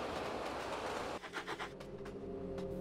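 A small steam engine puffs along the track, a soft rolling rumble giving way to a few distinct rhythmic chuffs, faint and unhurried, with no talk.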